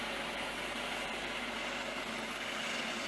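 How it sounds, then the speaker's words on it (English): A helicopter hovering about 50 meters up during a rescue-team insertion demonstration at a Ghana Independence Day event gives a steady, unbroken rotor and engine roar that holds constant for the whole stretch, with no voices. "The helicopter is currently hovering at about 50 meters for the rescue team to be inserted behind enemy lines."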